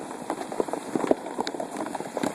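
Hail hammers a new Camaro SS and its surroundings in a storm, dense irregular clicks and thuds of stones striking hard surfaces close by, continuous and fairly loud with no voices.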